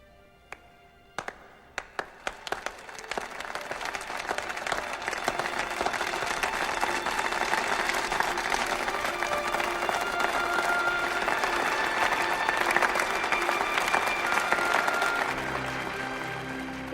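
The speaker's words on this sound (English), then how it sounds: "Do you like the slow clap at the end?" A slow clap at the ending of Star Trek VI: The Undiscovered Country starts with a few single claps and builds into full, sustained crowd applause that stays loud to the end.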